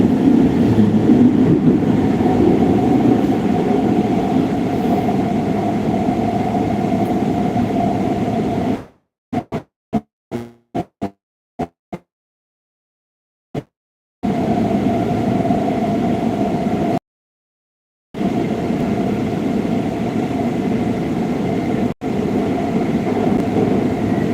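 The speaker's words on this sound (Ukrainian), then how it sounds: "Ми зараз їдемо в метро, катаємося по місту." Steady rumble and hiss of a moving metro train heard from inside the carriage on a city subway ride, continuous and loud, broken by several seconds of dropouts with brief clicks.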